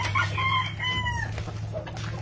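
Roosters at a breeding farm for fighting cocks crow in long, drawn-out calls, one after another, fairly close, over a constant low hum of background noise.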